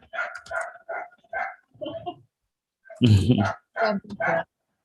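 Dogs barking in a sharp burst of several loud, close barks, with people talking before and after.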